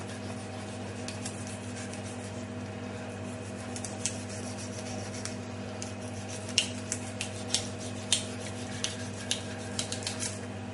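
A sharp knife saws through a fish's dorsal fin, soft scraping and crisp ticking cuts rising in a quick irregular series over a steady low hum, close and quiet.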